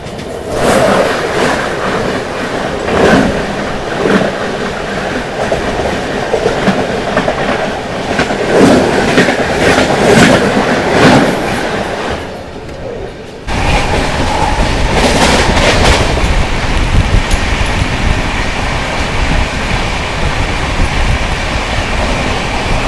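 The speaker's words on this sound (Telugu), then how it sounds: "అండ్ అలాగే మనకు ఇప్పుడు ఆపోజిట్లో జన్మభూమి కూడా వస్తుంది" The Janmabhoomi Express passes an Indian railway platform at high speed, a loud, close, continuous roar of rolling wagons with rhythmic clickety-clack from the wheels over rail joints that changes character partway through.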